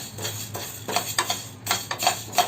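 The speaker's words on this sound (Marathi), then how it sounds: "करपू द्यायची नाही, सतत आपण असं ढवळत राहायचं आहे" Fenugreek seeds roasting dry in a pan are stirred continuously, giving a series of light scraping and rattling strokes close up, with soft clinks of the spoon against the metal and no talking.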